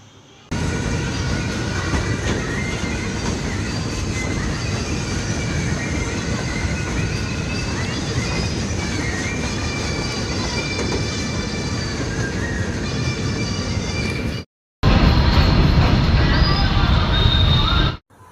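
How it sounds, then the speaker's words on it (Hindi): A train rumbles steadily past a railway level crossing, a loud, close, continuous roar of wheels and wagons that cuts out briefly near the end, then resumes just as loud. "तो ट्रेन भी आ गई थी, तो उसके बाद हम लोग वहाँ से चल दिए थे।"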